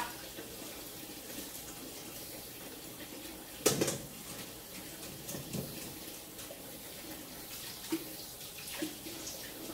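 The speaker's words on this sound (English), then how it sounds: "I like to rinse and make sure no extra shells are on here anyway." Tap water runs in a sink, rinsing peeled boiled eggs for potato salad; a steady, fairly faint stream with a few clinks and splashes, no talk.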